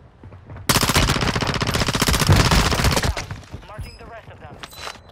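Rapid automatic gunfire from a Call of Duty match, a loud continuous burst lasting about two and a half seconds, then fading into scattered game sounds and faint chatter.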